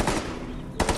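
Rapid gunfire from a weapon in Fortnite Save the World, two quick loud bursts within a second, close and clear with no talking over it.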